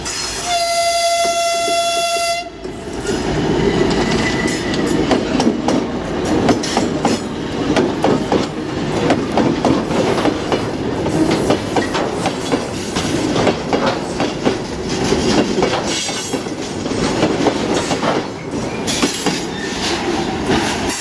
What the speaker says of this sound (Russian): мы снимали поезд